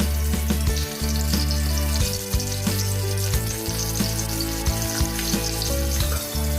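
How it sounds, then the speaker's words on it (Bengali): Stuffed capsicums fry in four tablespoons of hot mustard oil in a kadai over a very low flame, giving a loud, steady sizzle and crackle throughout with occasional sharper pops and a low rumbling undertone. "এবার কড়ায় চার টেবিল চামচ সর্ষের তেল গরম করতে দিলাম তারপর একেবারে লো ফ্লেমে ক্যাপসিকামগুলো দিয়ে দিলাম"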